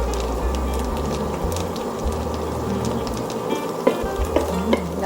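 Buttered garlic potato pasta sizzles steadily in a hot pan while being stirred, a continuous close frying hiss with occasional soft scrapes and clicks of the utensil toward the end, no voices.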